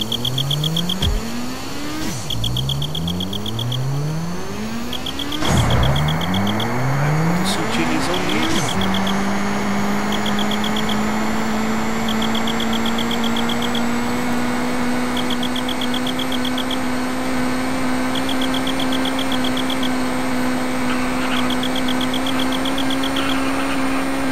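Car engine in GTA San Andreas revving through repeated rising gear shifts, then surging into a steady high whine as the nitro boost kicks in, with a faint periodic beeping running over the roar.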